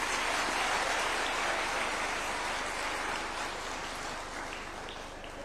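Audience applause following a presidential speech at Kenya's first Katiba Day celebrations, a dense, steady wash of many hands clapping that holds loud and gradually eases toward the end.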